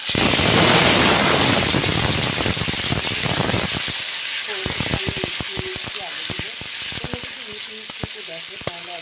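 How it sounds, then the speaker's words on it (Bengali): Fish heads and cut potatoes sizzle loudly in hot frying oil with cloves, cardamom and white cumin, a dense crackling hiss at first that thins into scattered pops and spits. "মাছের মাথাগুলোকে আমি লবঙ্গ এলাচ আর সাদা জিরে মাছ ভাজার তেলের মধ্যে আমি দিয়ে দিলাম"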